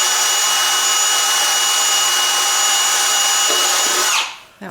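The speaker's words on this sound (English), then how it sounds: "it does take a little strength to push that drill into this old hard wood" A power drill boring into old, hard wood in a house window opening during a window replacement: a loud, steady high-pitched whine that runs unbroken for about four seconds, then winds down abruptly and stops.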